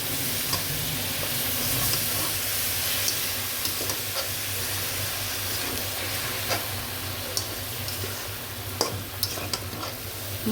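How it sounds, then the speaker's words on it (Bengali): Pumpkin greens sautéing with spices in a pan, a steady sizzle with scraping stir strokes and occasional ticks of a utensil against the pan, close and continuous with no talk. "মশলাটা আমি ভালো করে শাকটি ভালো করে কষিয়ে নেব।"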